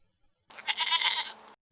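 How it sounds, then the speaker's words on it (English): A single goat gives one loud, close bleat of about a second, wavering and nasal, set between stretches of near silence. "What, the goat?"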